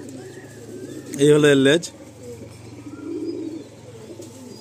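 A red Madrasi pigeon at a Kolkata loft gives one short, loud, close coo in the middle, with someone talking before and after it.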